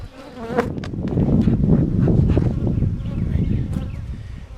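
Honey bees swarm around an open hive during preparation for a nectar flow, a dense, close buzzing hum with individual bees droning past, rising and falling continuously over light handling noise and no talk.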